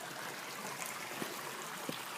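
Creek water running behind a cabin, a soft, steady broadband rush with faint trickling ticks, fairly distant and unbroken for the whole clip.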